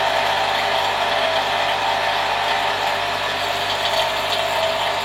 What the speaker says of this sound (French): Rouvrir les vannes.